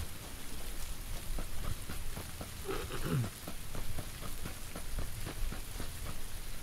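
Steady rain patters across a surface in a PUBG match, a dense, even hiss of drops with no break, fairly quiet throughout.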